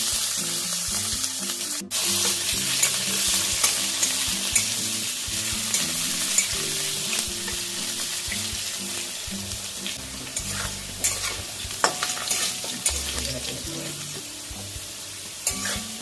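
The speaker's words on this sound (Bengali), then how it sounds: "ওই তেলের মধ্যেই কেটে রাখা আলুগুলো ভেজে নেব" Cut potato pieces fry in hot oil left over from frying small tengra fish, a steady close sizzle broken by repeated scraping and stirring knocks of a spatula against the pan, with no speech.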